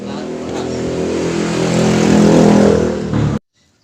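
A motorcycle engine runs rough despite new pistons, connecting rod, cam chain, tensioner and valves, giving a loud, steady, gritty drone that swells slightly before cutting off abruptly.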